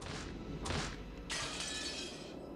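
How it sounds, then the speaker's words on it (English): Window glass in the game Umineko Chiru smashing under blows from an antique chair: three bursts of shattering glass, the last one longest with trailing tinkles, no voices. "The glass smashed with a violent sound and the frame groaned and creaked."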